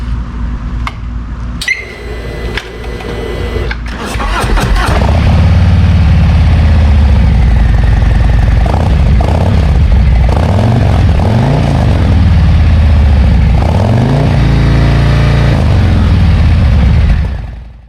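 A 2024 Harley-Davidson CVO Road Glide ST fitted with the exhaust from a Street Glide ST starts up and settles into a loud, deep, lumpy idle with a few throttle blips, steady and close throughout.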